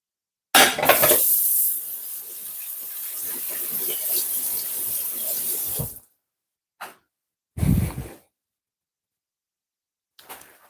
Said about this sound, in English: Let me just wash this thing off with some hot water quickly.